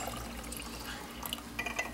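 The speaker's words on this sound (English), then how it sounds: "And then pour that into your oxidizer." Acid is poured into an oxidizer container while acid washing a Zippo lighter, giving faint, close liquid trickling and small dripping splashes, with a few brighter splash bursts near the end and no talk.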